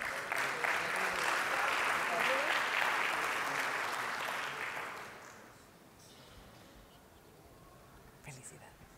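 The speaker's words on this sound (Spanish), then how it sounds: "les pido un fuerte aplauso por favor para los demás galardonados" Audience applauding award winners on stage at a ceremony, a dense sustained clapping that fades out after about five seconds, leaving a quiet room with faint stray noises.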